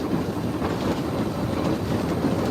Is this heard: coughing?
no